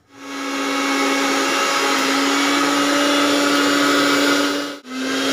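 A kitchen blender grinds fried black cumin, green chilli and coconut into a paste, a loud steady whirring motor drone running continuously before a brief stop and restart near the end.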